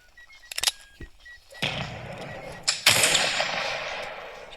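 Gunfire in a France versus Austria battle in the video game Blood and Iron: a few sharp shots early on, then two heavy blasts that trail into a long rumbling roar of battle noise.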